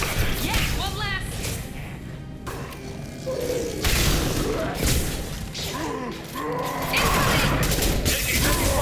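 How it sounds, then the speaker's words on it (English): Heavy gunfire and explosive thuds from combat in the Mass Effect 2 video game on PC, dense bursts of shots and booms running continuously and loudly, with brief voice lines in the mix. "Taking heavy fire."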